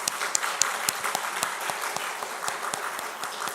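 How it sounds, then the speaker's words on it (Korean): A church congregation applauds during a worship service, many hands clapping in a steady, fairly even rhythm with sharp individual claps standing out, moderately loud and continuous throughout. "하나님께 영광 박수하겠습니다."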